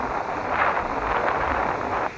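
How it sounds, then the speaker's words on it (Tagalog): Strong wind gusting on a seaside beach at evening, a steady loud broadband roar buffeting the microphone throughout, easing slightly just before the end, with no voices. "Lakas ng hangin."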